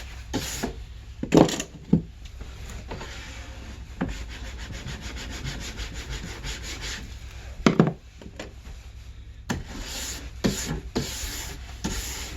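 A brush scrubs wax on the base of Madshus rental skate skis at Prospect Mountain, giving steady rubbing strokes close by, with a few sharper, louder strokes and no talking.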